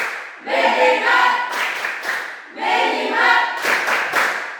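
A group claps out a classroom Tepuk fokus chant, two bursts of quick, dense hand-clap rhythm separated by a short pause, loud and close with many hands together.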